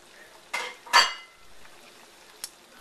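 Cut-up potatoes tipped into a cooking pot of simmering chicken afritada land in two quick, fairly loud clattering bursts, followed by a single short clink a moment later, with no talking.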